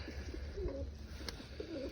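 A Turkish tumbler pigeon coos softly in two low, rolling phrases over a quiet indoor background hum, close but faint.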